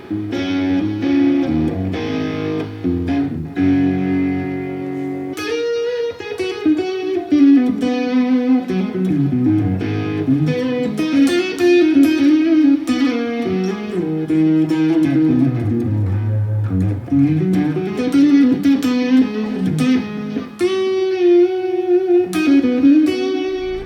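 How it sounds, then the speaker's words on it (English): A new Les Paul electric guitar played through a Marshall Plexi amp rings out with chords and melodic runs, loud and sustained, with a slightly driven tone. It plays alone for about twenty-four seconds. "last time I checked, I think a Les Paul through a Marshall Plexi is a pretty good combo"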